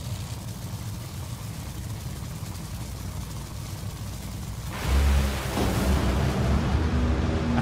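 Top Fuel dragster engine at a drag racing qualifying run, a steady loud broadband roar that jumps to a heavier, deeper blast near the end, with no talk over it.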